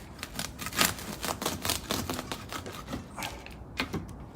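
A blade slices through a large, dense bonsai root ball, giving a rapid run of close, crisp cutting and tearing crackles that fade toward the end.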